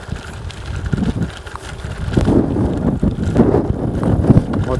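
Strong headwind buffets a microphone while someone pedals a bicycle against it, a loud, continuous rushing roar with gusty low-frequency thumps and no speech.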